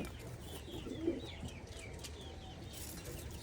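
Chinese Salara pigeons in a loft, soft low cooing under a steady hiss of background noise, faint and distant, with a brief stronger coo early on.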